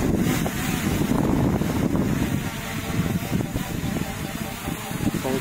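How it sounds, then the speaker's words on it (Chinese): Strong wind buffets the microphone in an outdoor central park, a dense, steady roar with gusty low rumbling that never lets up. "风超级大的。"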